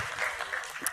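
An audience claps briefly at a talk, a dense, steady patter of many hands heard from a moderate distance, lasting about a second.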